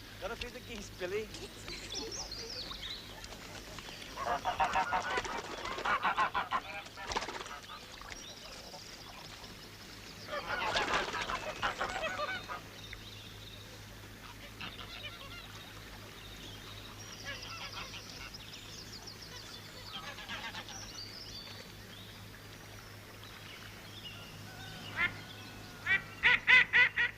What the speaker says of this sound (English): Gotta feed the geese, Billy.